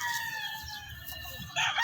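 A double-banded stag rooster crows close by, a single strained call that brightens and swells louder toward the end, with no other voices present.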